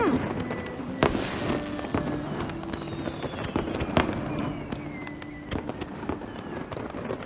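Fireworks burst repeatedly at a celebration, sharp booms and crackles popping every second or so, with a rising whistle streaking through the middle.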